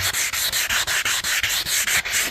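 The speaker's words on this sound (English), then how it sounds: "point of the scuff sanding is just to create little minor abrasions in the surface to allow the paint to grab onto it better." Sandpaper is scuff-sanding painted interior wood trim in quick back-and-forth strokes, a close, steady, rhythmic rasp of about a dozen passes with no voices.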